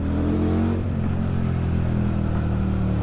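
An 800cc manual motorcycle engine on a test ride holds a loud, steady rumbling drone with a brief dip near the one-second mark, then continues at a constant level with no talking.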